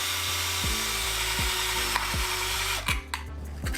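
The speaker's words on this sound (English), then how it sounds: "Take a pint jar and drill a hole in the lid from the inside" A power drill bores a hole through a metal pint mason jar lid, whirring continuously with rhythmic periodic grinding pulses, close and fairly loud, with no voices.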